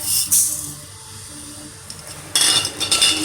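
Urad dal and mustard seeds drop into a hot pan for upma, giving short bright clinks and sizzling clatter near the mic, with a quieter stretch in between.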